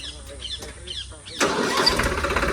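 A 2018-model Holland tractor's engine cranks and catches, then settles into a steady, close diesel rumble, with someone talking just before it starts.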